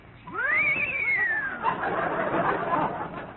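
A human voice imitates the frightened whinny of horses: a high, rising then falling neigh followed by a rough, fluttering whinnying tail, close and fairly loud.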